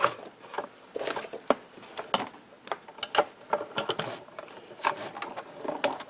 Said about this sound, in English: I'm going to get my Platinum 6 machine out and run this through